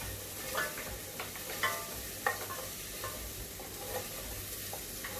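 Onions fry in a pan with a soft, continuous sizzle while a utensil stirs and scrapes the pan every second or so.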